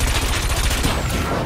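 Cannon weapon firing in WipEout Omega Collection, a rapid, loud burst of repeated shots running continuously through the moment with no pause.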